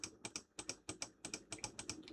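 Computer mouse clicks sound up close while points are placed in FloEFD engineering software, a quiet run of crisp, sharp clicks in an uneven rhythm with no talking.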